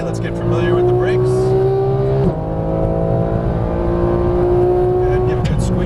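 A car accelerating on a race track in Las Vegas, its engine droning at a steady pitch, briefly dipping as it shifts, then rising again, close and loud throughout.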